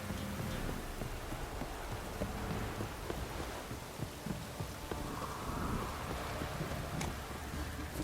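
Steady heavy rain pours down in the video game The Witcher 3, a dense, constant hiss with scattered drips and low rumbles, no voices.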